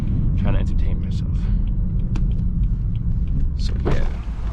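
A BMW B58 engine tuned to 500 wheel horsepower rumbles loudly and steadily at cruising speed, a deep continuous drone with a few brief higher bursts over it and some faint voice underneath.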